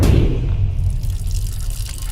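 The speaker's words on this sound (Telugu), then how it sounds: "నువ్వెంత కట్టినా ట్యాప్ ఆగదమ్మా, అది రిపేర్లో ఉంది." A water tap that is under repair and will not shut off runs steadily, a continuous close-up gush and trickle with a brief louder splash at the start.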